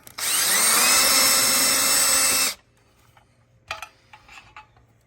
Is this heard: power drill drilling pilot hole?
yes